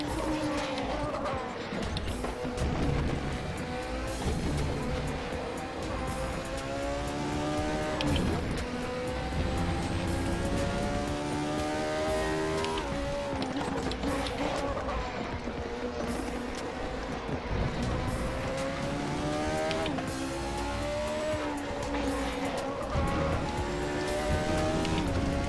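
A race car engine in the RaceRoom game at Spa revs, climbing and dropping through repeated gear shifts, sustained and loud, with a racing whine sweeping up and down throughout.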